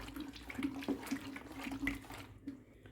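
Water pours from a container into a mix for homemade phenyl, giving a faint, continuous splashing and trickling that ends abruptly near the finish.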